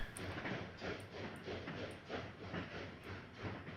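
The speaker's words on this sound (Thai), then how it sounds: "ดึงเพื่อให้รถไฟมันทำงานใช่" Rhythmic chugging hiss of a video-game ghost train starting up after a lever is pulled, faint repeated steam puffs and clicks at an even beat.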